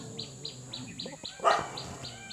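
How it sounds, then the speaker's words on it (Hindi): Dogs barking outdoors in Mirissa, Sri Lanka, a string of repeated barks at a steady rhythm with one louder, closer bark midway, under faint background noise and birds. "पीछे यार कुत्ते भौंक रहे हैं"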